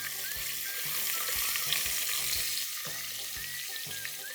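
Green capsicum, green chilies and cashew nuts fry in oil with a loud, even sizzle, a dense crackling hiss that holds steady from start to finish over soft background music.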